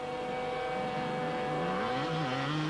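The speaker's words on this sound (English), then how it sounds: "Somebody revving hard out there." A distant enduro motorcycle engine, apparently with a stuck throttle, whines steadily at a 1991 World Enduro Championship round in France, its pitch rising and falling as it revs hard, with no voices over it.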